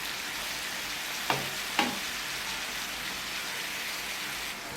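Beef top sirloin sizzles steadily in a skillet outdoors in a Jamaican yard, a continuous close crackling hiss with two brief sharp pops partway through and no talking.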